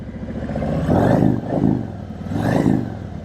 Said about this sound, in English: Listen to those Cobra pipes.